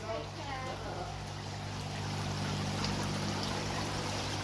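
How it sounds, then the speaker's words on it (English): Electric-powered water features at a garden centre trickle and splash in a steady, close, moderately soft wash of flowing water, with a low mechanical hum beneath. "I'll give you one last look of the water features."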